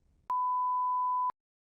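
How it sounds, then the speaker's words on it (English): A single clean electronic beep, steady and pure in tone, lasting about a second, followed by silence. "You may begin preparing after the beep."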